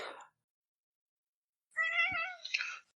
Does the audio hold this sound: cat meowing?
yes